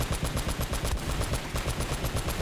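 Rapid automatic gunfire rattles in a fast, steady stream of shots, dense and loud, during a vehicle chase in Uncharted: Drake's Fortune.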